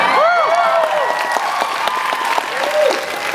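A Comic-Con panel crowd at San Diego Comic-Con 2015 applauds and cheers loudly, dense clapping filling the hall while whoops and voices rise over it.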